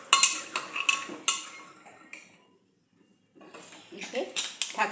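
Green chillies are stirred in a cooking pot, with bursts of close metallic scraping and clinking, a short silent pause midway, then more stirring clatter.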